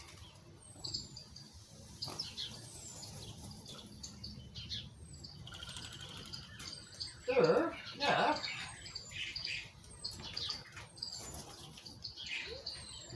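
Birds chirp and tweet in a backyard with a brief flutter of wings, light calls scattered throughout, while people talk quietly nearby.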